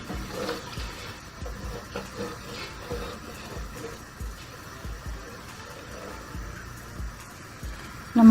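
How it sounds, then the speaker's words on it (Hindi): Water poured into a pot of chicken that has been browned with yogurt for chicken pulao, giving a faint, steady splashing pour that runs for several seconds. "अब हम इसमें पानी शामिल करते हैं।"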